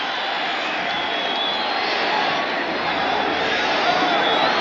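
A football stadium crowd at a 1985 Raiders–Broncos game roars steadily at a player heading off the field, a dense, unbroken wash of distant cheering and noise throughout.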